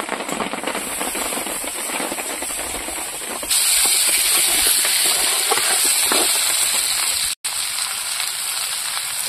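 Potatoes and chopped tomato frying in a pan, a steady loud sizzle and hiss that grows louder partway through, with a brief break near the end and no talking.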